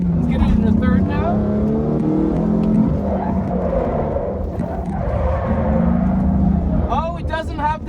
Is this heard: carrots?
no